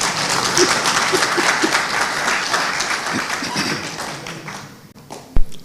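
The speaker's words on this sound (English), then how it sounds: "You don't think we deserve an applause?" An audience at an education forum workshop applauds in a steady patter that gradually thins and fades, followed by a single sharp thump near the close.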